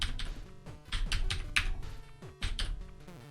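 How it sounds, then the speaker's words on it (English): Computer keyboard keys pressed hard during a video game session, a close series of sharp clacks in uneven bursts, some quick runs and a few heavier isolated strikes, with no talk. "I feel like the game wants me to press the keys louder."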